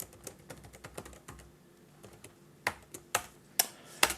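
Soft, irregular keystrokes on a computer keyboard while a password is entered, light clicks at first, then several sharper, louder taps near the end; close, with no talk.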